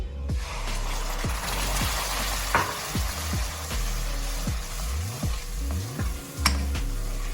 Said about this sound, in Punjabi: ਪਿਊਰੀ ਨੂੰ ਆਪਾਂ ਚੰਗੀ ਤਰ੍ਹਾਂ ਮਿਕਸ ਕਰ ਲਵਾਂਗੇ ਗੈਸ ਦੀ ਫਲੇਮ ਆਪਾਂ ਹਾਈ ਕਰਕੇ ਲਗਾਤਾਰ ਇਸ ਨੂੰ ਪਕਾ ਲਵਾਂਗੇ